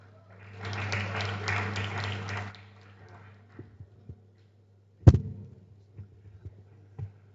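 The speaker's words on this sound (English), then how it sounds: "Please, a round of applause for him." A brief burst of applause at a book presentation panel lasts about two seconds, then fades into a quiet room hum broken by a few soft taps and one sharp thump.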